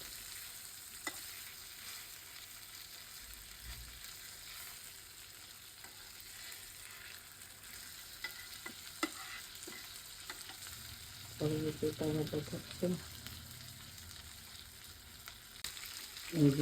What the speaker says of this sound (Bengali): ভাজা হয়ে গেছে ইলিশ মাছটা আমার ইলিশ ভাজা হয়ে গেছে